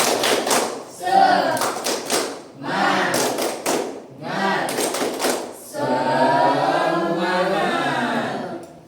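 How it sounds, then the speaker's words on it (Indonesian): A classroom of fourth-grade pupils claps a rhythmic spirit-clap pattern in loud, repeated bursts with pauses between sets, ending in a longer stretch of mixed clapping and group voices. "Ice breakingnya seperti biasa, tepuk semangat."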